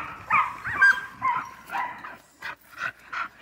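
A dog barks and whimpers in a series of short, close yelps, about seven bursts in quick succession, with no talking.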